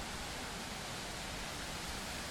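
The Algama Ella waterfall near Nittabuwa in Sri Lanka gives a steady, even rushing hiss of falling water, heard faint and distant with no voices.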